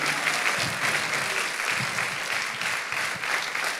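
A church congregation applauds during a Spanish-language sermon, a dense, continuous wash of clapping with a few low thumps underneath, holding steady for several seconds.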